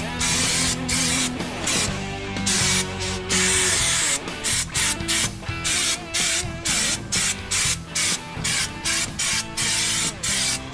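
Spray coating being applied under a 1964 Ford Fairlane, close and loud, with rapid repeated hissing bursts broken by short pauses as the trigger is pulsed, and no talk.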